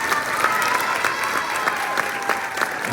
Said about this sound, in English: If you give them a round of applause just for our small groups.